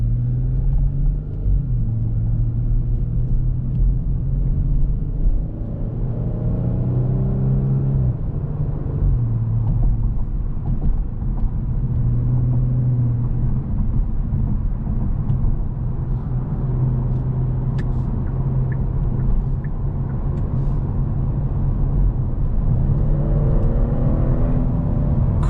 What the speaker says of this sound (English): Quick downshift as I threw the pedal to the floor there.